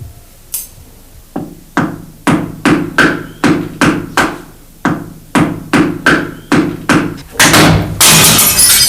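A hammer drives a nail into a weak brick wall in about a dozen evenly spaced, sharp knocks, close and loud, ending in a crumbling crash as a brick breaks loose.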